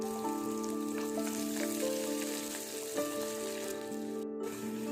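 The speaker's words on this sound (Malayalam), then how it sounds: "ഇതിലേക്ക് പച്ചമുളക് ഉള്ളി കറിവേപ്പില ചുവന്ന എല്ലാം കൂടി ഇട്ട് നന്നായിട്ടൊന്ന് വഴറ്റിയെടുക്കാം" Green chillies, onion and curry leaves sauté in hot oil in a pan for broken wheat upma. A steady, even frying hiss runs under a constant mechanical hum, with no speech.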